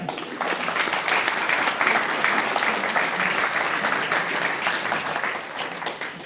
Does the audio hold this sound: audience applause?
yes